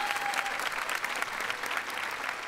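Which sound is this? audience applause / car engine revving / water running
audience applause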